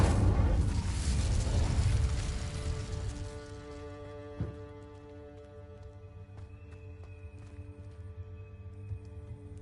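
A deep, rumbling burst of fire from an Incendio spell in Hogwarts Legacy swells loudly and then fades into a lingering ringing tail with faint footsteps.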